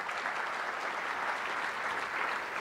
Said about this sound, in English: giving the Fairmont team a round of applause for the fine meal that we've enjoyed